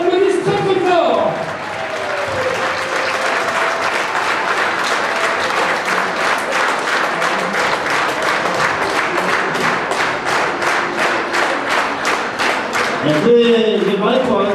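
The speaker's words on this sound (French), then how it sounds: "Je voudrais qu'on les applaudisse très très fort." A crowd at a Restos du Coeur charity show claps loudly and steadily in a fast, even rhythm that lasts most of the clip, with a voice heard briefly at the start and end.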